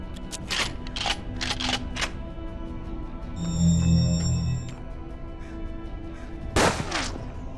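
Gunfire in the Western turn-based game Hard West: a run of sharp shots early on, a metallic ringing tone in the middle, then another loud burst near the end, with no talking.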